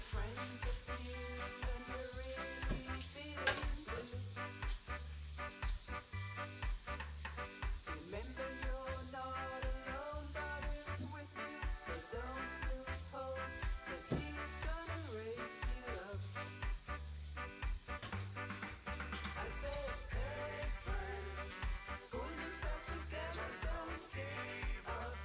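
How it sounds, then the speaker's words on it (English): Swiss rösti, flattened potato cake, sizzling steadily in a frying pan, a continuous dense crackle and spatter with no voices, close and moderately quiet throughout. "So it's nicely flattened, so I'll leave it here to fry."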